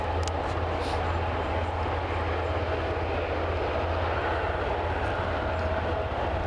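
A Loganair aircraft lines up for takeoff at Aberdeen airport, its engines giving a steady, continuous droning hum with a low rumble, heard from a distance without change in level.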